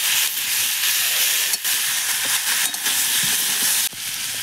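Vegetables for a salted hilsa dish with potato, eggplant and taro stir-fry loudly with ginger, garlic, chilli and turmeric in a pan, giving a dense, constant sizzle broken by a few brief stirring scrapes.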